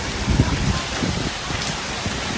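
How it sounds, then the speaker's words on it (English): Dense, continuous patter of big hail pelting surfaces during a San Antonio hailstorm with strong winds, loud and close with a few sharper impacts standing out. "We are getting hit by some big hail right now."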